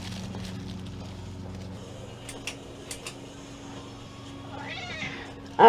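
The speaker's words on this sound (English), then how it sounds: "I don't know what's been wrong with my boy cat." A male cat meows near the end, loud and close, after a stretch of quiet room hum with a few faint clicks and taps.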